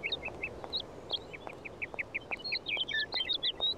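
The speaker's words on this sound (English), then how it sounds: "The birds are so damn loud." Birds and ducks call in the Syberia video game, a rapid run of bright chirps and quacks repeating throughout, growing busier and louder toward the end over a faint background.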